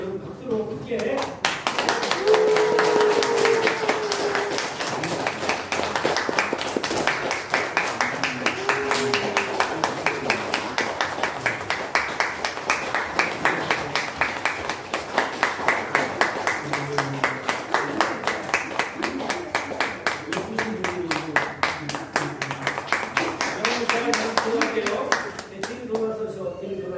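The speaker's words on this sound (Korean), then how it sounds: "여러분 박수로 크게." A church congregation claps through most of a Sunday worship service, a long, dense run of applause with voices talking and calling over it throughout.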